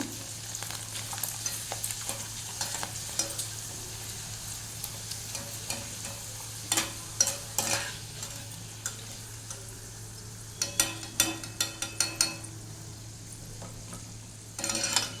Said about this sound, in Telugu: అలాగే నేను కొద్దిగా వడియాలు వేపుతున్నాను